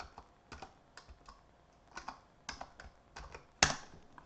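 Someone types a password on a computer keyboard to log into a Kali Linux machine, producing a dozen or so crisp, irregularly spaced key clicks up close that end with a louder, sharper press, probably the enter key.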